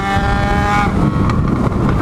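A Yamaha XJ6 motorcycle accelerates hard through quick clutchless gear shifts, its loud, close engine note rising in pitch and then dropping with each upshift before climbing again.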